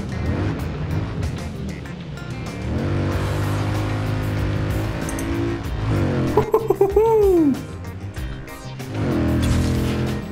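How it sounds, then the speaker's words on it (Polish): A Mercedes C63 engine in the racing game Forza Horizon 4 drones loudly and steadily, rising and falling in pitch with a sharp rev sweep near the end. "Mercedes C63! Taki dźwięk!"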